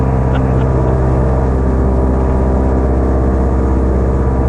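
A rare 1936 Lockheed 12A twin-engine airplane in flight, heard from inside as a loud, steady, droning engine roar with a low rumble that never lets up, and no talk over it.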